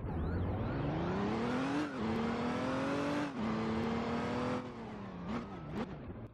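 A stolen police car in a role-play video game revs hard, its engine pitch climbing and dipping through several gear-like surges with brief tire squeals near the end, loud and close with no talking.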